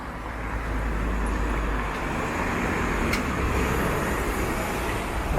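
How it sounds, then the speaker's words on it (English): A city bus on Sherbourne Street in Toronto rumbles past amid steady roadway traffic noise, a continuous low engine drone that swells and stays loud throughout, with no talk. "There's the Sherborne bus."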